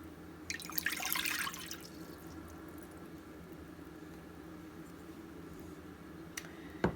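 Cool water is poured into a bowl for bread dough in a home kitchen, giving a short splashing gush of about a second followed by quiet background and a faint drip near the end.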